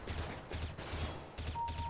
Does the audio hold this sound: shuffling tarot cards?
no